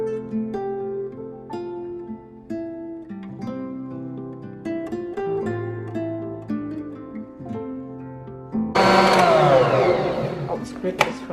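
An electric mixer whirs loudly into eggs and salt in a home kitchen, starting abruptly after a stretch of quieter tonal background sounds and running steadily to the end.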